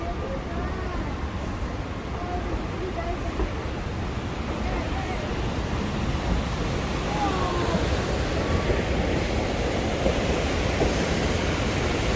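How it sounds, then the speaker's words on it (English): Rushing rapids beneath Cascade Trestle on the Durango and Silverton Narrow Gauge Railroad, a steady broadband roar of churning water that holds level throughout, mixed with wind and ride noise. "we cross the rushing rapids over Cascade Trestle"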